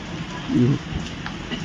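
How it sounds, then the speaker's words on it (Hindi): Evening rain grows from a drizzle to a steady shower. The close, even patter runs through the whole short stretch, with a brief low murmur partway in. "अब थोड़ा सा बढ़िया बारिश हो गई है"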